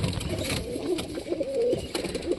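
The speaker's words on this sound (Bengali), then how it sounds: "সব কবুতর এখানে ডালে বসে আছে" Pigeons perched on sticks and branches in a loft coo in soft, repeated throaty calls, close and steady over a low background rustle.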